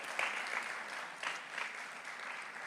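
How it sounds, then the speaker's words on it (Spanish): An audience claps at a Spanish-language talk, a faint, steady patter of applause from a distant crowd with a few slightly louder bursts. "si quieren aplaudir, aplaudan. Pero con más fuerza, por favor."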